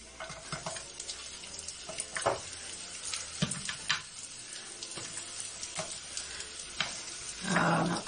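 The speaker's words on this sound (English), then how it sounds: "you can hear it sizzling" Spring rolls sizzle and crackle in a hot frying pan, a steady close hiss broken by sharp spits and pops and occasional stirring noises, with no talking.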